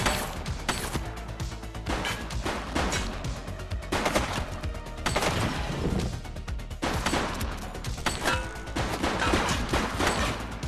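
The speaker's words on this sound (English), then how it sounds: "She's shooting!" Gunfire in the police video game The Precinct, set in Aerno City, with dense bursts of rapid shots and crashing impacts repeating across the scene, loud and continuous.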